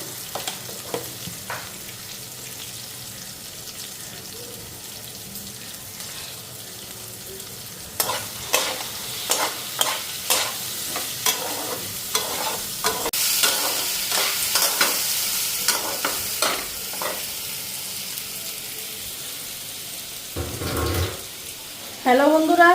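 Vegetables with turmeric and salt frying in a pan: quiet sizzling and light stirring at first, then louder, rapid scraping stirs over a hissing fry, with a brief heavier clatter near the end, no talk.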